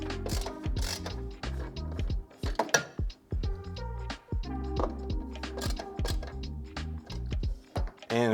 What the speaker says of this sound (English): get a screwdriver. Just snug those down